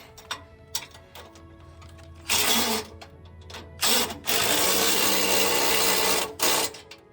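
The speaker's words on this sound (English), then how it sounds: "So right now we're gonna tighten up that bolt." A power tool tightens a bolt on a front bumper for a 2009-2014 Ford F-150, with several loud, broadband bursts of a second or two each, the longest running about two seconds, separated by quieter clicking.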